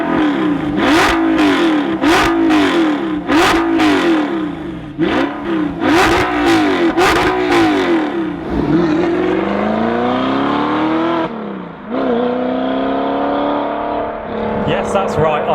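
A manual Audi R8 with a V8 engine revs hard while being driven. The engine note climbs and drops in repeated sweeps with gear changes, loud and close inside the car, then settles into longer steady pulls.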